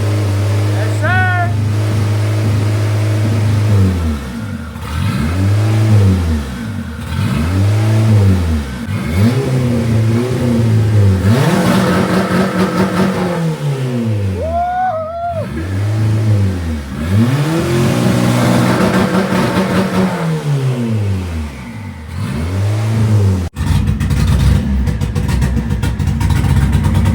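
A car engine fires up for its first startup and revs repeatedly, the pitch sweeping up and down in loud bursts, with people talking and exclaiming over it.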